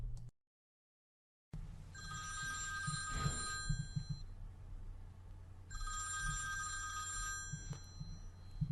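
A landline telephone bell rings twice during an outgoing call about booking an appointment, two clear bursts of ringing separated by a pause, heard alone against a low steady room hum.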